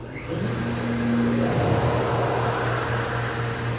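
An electric fuel transfer pump on an auxiliary fuel tank for a flatbed or 3/4-ton pickup starts up, settling into a steady close mechanical hum with a brief rising whine as it begins.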